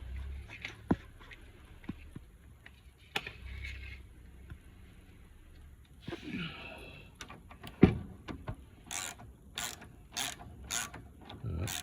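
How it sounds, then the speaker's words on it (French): A ratchet turns a female Torx bit while removing the steering damper on a Smart ForTwo 450 cabriolet. Sparse mechanical clicks and clunks build into a quicker run of sharp ratcheting clicks near the end. "Avec un cliquet."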